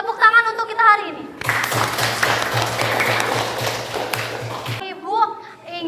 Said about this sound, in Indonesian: Tepuk tangan untuk kita hari ini